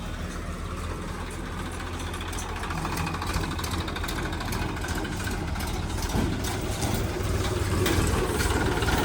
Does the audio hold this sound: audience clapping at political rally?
no